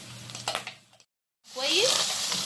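Chopped onion and spicy pepper go into hot oil for a samosa filling, bursting into a loud, dense sizzle after a brief silence, while a voice murmurs over fainter frying at the start.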